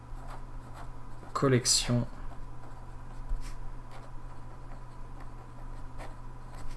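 A Kaweco Sport fountain pen writes on smooth Rhodia paper, giving a short burst of scratchy nib strokes near the mic, with quiet room sound before and after and speech present in the clip.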